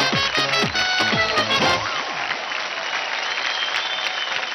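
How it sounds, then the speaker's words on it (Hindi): Studio audience applauding on a televised Indian dance competition show, loud sustained clapping with whooping vocal tones early on, then settling into a steady even wash of applause. "जोरदार तालियां हो जाए।"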